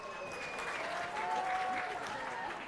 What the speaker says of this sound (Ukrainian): І бачимо оплески від місцевих болівальників